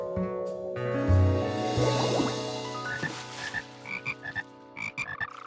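Cartoon frogs croaking, a low bellowing croak first and then a string of short, bubbly croaks in quick uneven bursts, close and clear.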